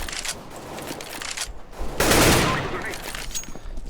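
Rapid automatic gunfire from a spraying weapon in CS:GO crackles throughout, with a denser, louder burst in the middle, then a lighter rattle.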